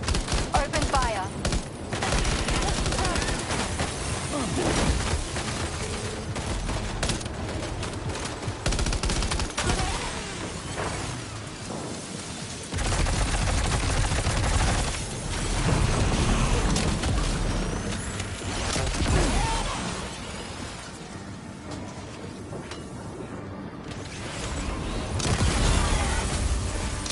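Gunfire in Death Stranding 2, dense sustained bursts and rattling volleys with rumbling battle noise throughout, loud and continuous, with brief voices over it.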